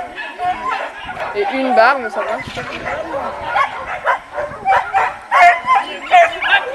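A dog at an agility event barks and yips in short repeated bursts under continuous nearby chatter from people talking.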